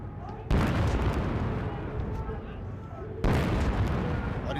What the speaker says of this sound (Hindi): पहले से बनाया गया फायर बेस हमलावर सैनिकों को निरंतर की फायर सपोर्ट देता रहता है